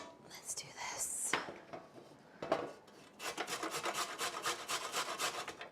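Food rasped back and forth across a kitchen grater, giving a run of rhythmic scraping strokes that grows steady and fairly close toward the end, after a few scattered rubs and handling noises.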